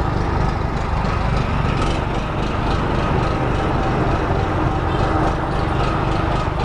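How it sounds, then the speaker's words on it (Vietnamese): A 0.5 HP air compressor runs off a Husqvarna 3kW petrol generator with automatic voltage regulation, giving a loud, continuous mechanical rattle and engine drone close by. "Bây giờ tôi sẽ test chiếc máy nén khí này cho các bạn xem."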